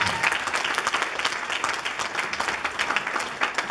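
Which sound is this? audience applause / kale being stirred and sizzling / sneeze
audience applause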